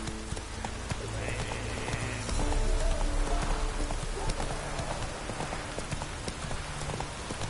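A horse in The Witcher 3 clip-clops along at a steady trot through rain. The close, rhythmic hoofbeats sound over a constant patter of falling drops.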